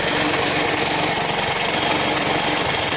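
A 1981 Honda ATC185S ATV, previously seized, runs continuously with a steady, loud, buzzy engine drone close by, an even rough rumble throughout with no talking.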